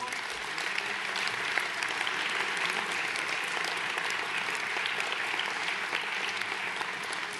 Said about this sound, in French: J'aimerais collectivement que l'on applaudisse tous ces élus pour leur engagement.